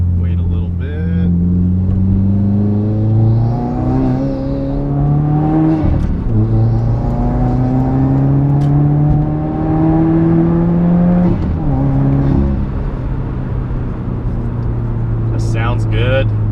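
Subaru WRX engine revving up and down in repeated loud, rising sweeps, with a deep rumble and whooshing turbo-like tones, close by and steady throughout.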